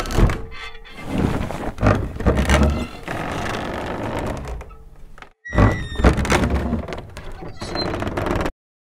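Layered raw sound effects for a windmill in the video game Arcan Chronicles: creaking wooden mechanisms, thunks and ratcheting clatter over a dense rumbling bed, with a brief gap before the layers resume, loud and busy.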